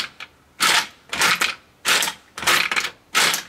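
An AK-47 MagPump loader's lever is pushed down repeatedly to drop rounds into a magazine, giving five sharp, crunchy metallic clacks in an uneven rhythm, loud and close, with quiet gaps between them.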